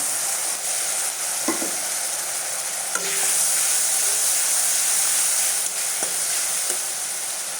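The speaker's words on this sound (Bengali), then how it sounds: "এই যে আদা বাটা, পেঁয়াজ বাটা, রসুন বাটা, এগুলো একবারে সব একসঙ্গে দিয়ে দিলাম।" Ginger, onion and garlic paste sizzles loudly in a hot pan for an egg, potato and pointed gourd curry, a steady frying hiss with a few soft stirring knocks, no voices.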